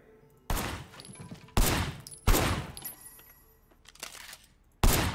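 Single gunshots ring out one at a time in the Sleeping Dogs gun tutorial, five sharp, loud reports spaced unevenly with a short echoing tail after each, no voices.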